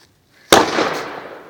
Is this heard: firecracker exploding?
yes